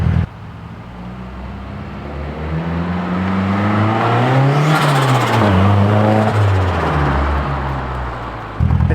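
A turbocharged Nissan 240 accelerates hard, its engine note rising and swelling loudly up close before a brief flutter as the throttle lifts near the end.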